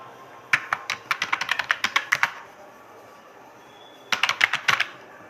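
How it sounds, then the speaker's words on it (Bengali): Rapid keystrokes on a computer keyboard while a passenger name is entered for an online train ticket booking, in two close, crisp bursts separated by a pause. "এখানে প্যাসেঞ্জার নেম এখানে টাইপ করবেন"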